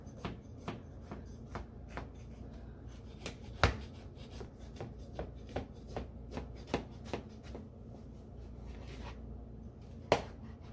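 A knife slices through a freshly baked, still-steaming loaf of banana bread, giving a run of soft, close crunchy cuts and scrapes at an uneven rhythm. One sharper knock lands partway through and another near the end, with no talking.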